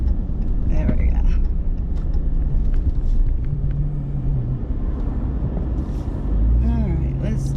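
A 2021 Ram TRX pickup truck at full throttle, with a heavy low engine rumble and roar that surges and varies throughout, and faint voices underneath.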